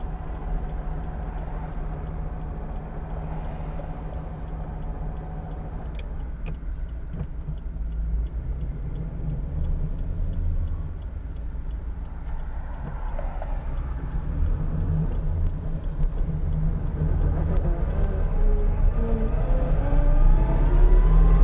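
A Subaru BRZ with a swapped Toyota 1UZ V8 engine idles and free-revs steadily, its low rumble holding even and building slightly louder toward the end, with no talking.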